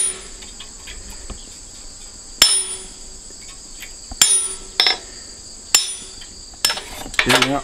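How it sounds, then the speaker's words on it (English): A blacksmith striking a plain chisel with a hammer to cut leaf veins into metal, sharp ringing metallic blows spaced a second or two apart, quickening into a short cluster at the end, over a steady insect-like background hum. "I'll put my veins in it with just a plain old chisel, and that'll make it resemble a leaf."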